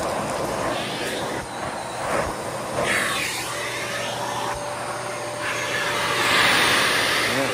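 A Dyson Cinetic Big Ball vacuum cleaner runs continuously on a back porch, a steady loud whooshing drone with a faint whine and small shifts as it is pushed around.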